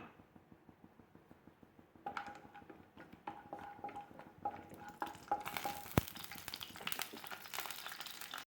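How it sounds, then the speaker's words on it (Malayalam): Quiet frying of almonds and cashews in ghee in a pan that grows into a brighter, busier sizzle, with scattered taps and clinks of stirring; no speech. "ഇനി നമുക്ക് ഈ ബദാമും അണ്ടിപ്പരിപ്പും നമുക്കൊന്ന് വറുത്തെടുക്കാം."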